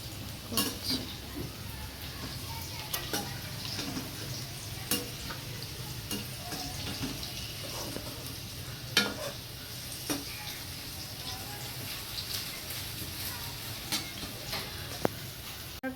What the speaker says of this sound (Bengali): এদিকে বড়া হচ্ছে আর এদিকে হচ্ছে আলু ভাজা।